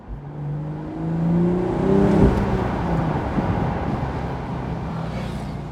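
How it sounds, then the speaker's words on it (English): A 2024 BMW Z4 M40i with a 6-speed manual revs up through a rev-matched downshift, its engine note swelling in rising tones and then settling into a steady, close drone with no talking. "You can hear that rev match on the downshift."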